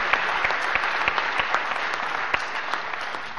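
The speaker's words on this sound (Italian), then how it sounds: "giusto l'applauso" An audience at a lecture applauds, a dense, steady patter of hand claps with a few sharper individual claps standing out, moderately loud and continuous without speech.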